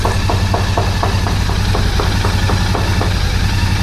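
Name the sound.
Royal Enfield Continental GT650 motorcycle engine idling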